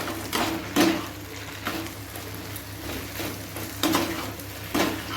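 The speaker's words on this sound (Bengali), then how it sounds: "একটু আমি হালকা হিট দিয়ে একটু ফ্রাই করে নিচ্ছি" Potato chilli fries gently over low heat in a pan, giving a continuous soft sizzle with periodic louder scrapes and stirs of a spoon against the pan.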